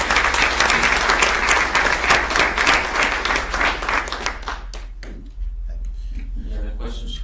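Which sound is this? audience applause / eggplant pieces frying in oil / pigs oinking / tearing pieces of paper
audience applause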